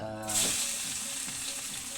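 Onion and ginger hit a hot pan and burst into a loud, steady sizzle that holds for about two seconds, with soft scraping beneath.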